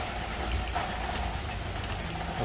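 Rain falls steadily outdoors in Korea, a dense, even hiss of drops hitting surfaces that holds at a constant moderate loudness with no voices.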